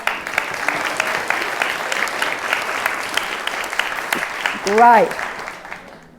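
Audience clapping at a women's leadership event, a busy spread of claps that thins toward the end, with a voice speaking over it and a brief vocal exclamation near the close.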